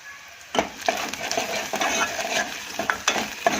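Curry leaves go into a hot pan of browned onions while Maggi rice is being made, giving a steady crackling sizzle broken by several sharp spoon scrapes and taps against the pan, close and fairly loud.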